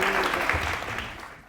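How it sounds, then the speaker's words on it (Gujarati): A studio audience claps during a courtroom-style talk show, a brief burst of applause that starts full and trails off toward the end. "જનતાની તાળીઓ સાંભળી"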